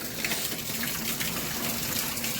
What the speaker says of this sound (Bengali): আবার শুরু হয়ে গেছে, সারাদিন এখন বৃষ্টি পড়বে